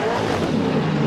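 Loud, close roar of a Corvette drift car engine launching off the line at Agassiz Speedway, a brief sustained revving burst with no voices.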